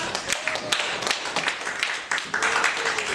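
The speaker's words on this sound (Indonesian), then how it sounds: "Boleh tepuk tangan." Classroom applause during a teaching practice session, a dense patter of many hands clapping steadily throughout at moderate loudness, with faint voices mixed in.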